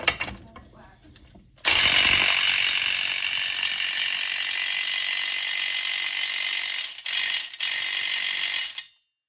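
Powerful impact gun in its highest mode tightening the spline on a Sea-Doo GTI jet pump, a loud continuous hammering rattle lasting about seven seconds with two short breaks before stopping.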